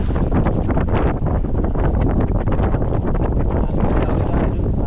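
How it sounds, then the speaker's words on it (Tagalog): Strong wind blows across open sea during a fishing trip, a continuous loud buffeting roar over the microphone with gusty surges and no voices. "Hangin lang mga idol."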